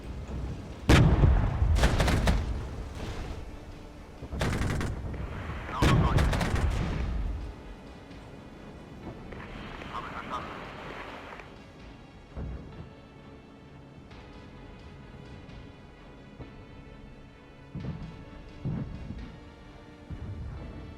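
Heavy artillery booms from the strategy war game Regiments, with several loud broadband blasts early on, then scattered distant rumbling shots and crackling gunfire over a low battlefield din.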